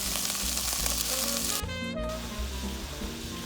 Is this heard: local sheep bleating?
no